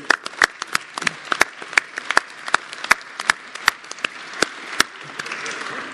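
Council members give a small round of applause for a colleague's birthday at a full council meeting, sparse, distinct individual claps that stay fairly modest and thin out toward the end.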